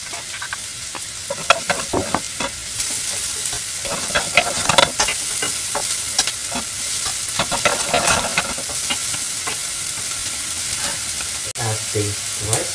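Rice and Spam frying in oil with onion, ginger and garlic, stirred steadily in a pan, giving a continuous close sizzle broken by frequent scraping and clattering strokes.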